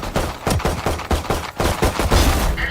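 Rapid gunfire in the Valorant esports match SEN vs. FNC at VCT LOCK//IN, with loud repeated shots in dense bursts across the whole stretch and no talk.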